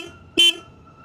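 A Royal Enfield Bullet J Series single horn gives one short, sharp honk lasting about a tenth of a second. It stands close and loud against a quiet idling background.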